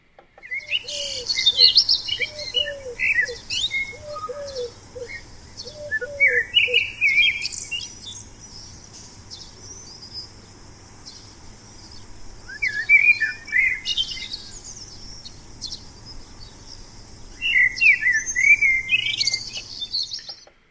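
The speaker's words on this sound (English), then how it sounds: "I'm now going to go to the blackbird." A blackbird's song plays from a recording, with clear fluted phrases and twittering calls coming in bursts over a faint insect chirr and low hum.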